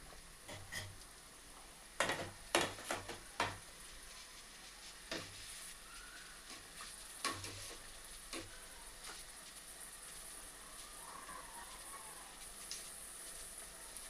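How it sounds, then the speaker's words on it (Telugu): A sweet frying in oil on the stove gives a soft, steady sizzle underneath, with several sharp clicks and clinks from a spatula or utensil, faint and close, without talk. "వన్ సైడ్ కొంచెం ఫ్రై అయినాక మనం నెక్స్ట్ అనేది ఫ్లిప్ చేసుకున్నాం"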